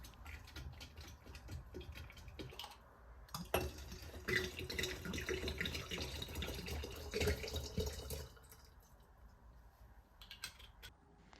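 Spirit pours with a gurgling splash into cooled yerba mate liquid, followed by sloshing and clinking as it is mixed, fading to quieter handling sounds.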